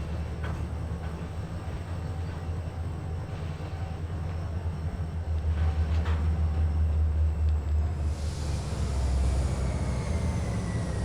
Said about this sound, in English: let's bring the train in slowly